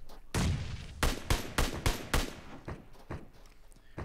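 Gunfire in the video game PUBG Mobile: several sharp, loud shots ring out in an uneven burst of about six close reports, followed by a few fainter distant pops.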